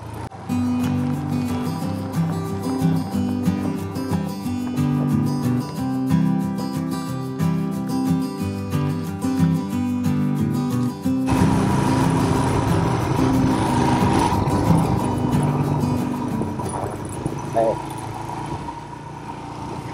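A motorcycle with reduced tyre pressure rides over sandy, muddy, stony terrain, its engine droning steadily and loudly, shifting to a rougher, noisier tone partway through.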